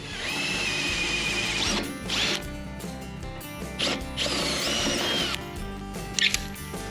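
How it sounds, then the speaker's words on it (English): Power drill boring 1/4 inch holes through 4130 chromoly tubing on a race car chassis, steady whining bursts with short pauses between holes and a few clicks, close and without speech. "So I'm going to go ahead and finish these 1/4 inch holes and then step up through the sizes."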